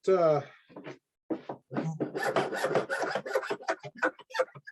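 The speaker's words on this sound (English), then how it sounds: "This file has a rasp on the side or a space on the side. So I'm just kind of running it back and forth, cleaning it out." A rasp-sided file is worked back and forth over a wooden beginner's loom, giving a burst of rough scraping strokes that run close and steady, with the speaker talking over most of it.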